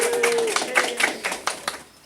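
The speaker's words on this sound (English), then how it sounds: "Oh wait, we forgot to clap" A small group at a meeting gives a short burst of clapping, a few sharp, uneven claps that thin out quickly, while a voice briefly sounds at the start.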